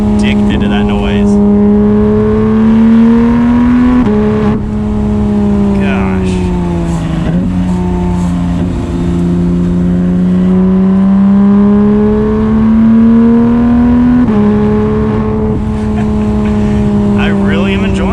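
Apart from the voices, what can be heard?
Porsche 911 GT3 six-cylinder upgraded exhaust revving while driving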